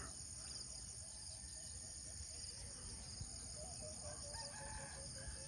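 Roosters crow and chickens cluck at a distance over a steady, loud chorus of insects trilling on a foggy morning farm, with no talking.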